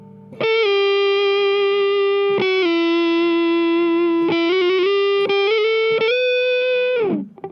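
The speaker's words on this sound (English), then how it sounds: "Put a bit of tube screamer on it." Overdriven electric guitar, a 2019 PRS McCarty 594 Hollowbody II through a Tube Screamer, holding a single singing note with slight bends and vibrato, smooth mid-heavy drive, ending with a downward slide.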